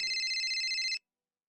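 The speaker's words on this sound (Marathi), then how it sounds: "नमूचा फोन." A telephone rings in a Marathi TV serial scene: a steady electronic ring held for about one second, close and clear, then cut off into silence, with no talk over it.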